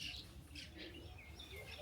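Baya weaver birds at their nests in a coconut tree give faint, scattered high chirps over a quiet outdoor background.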